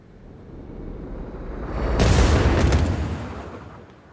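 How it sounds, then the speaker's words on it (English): Eight SAS-1 missiles fired at the Warden in a space combat game build into a rising, rumbling roar that peaks in a heavy burst of impacts midway, then fades down. "Flicker will now fire 8 SAS-1 missiles at the Warden."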